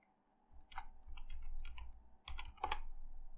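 A password being typed on a computer keyboard during Windows 10 setup, a quick irregular run of key clicks, close and fairly quiet, with no talking.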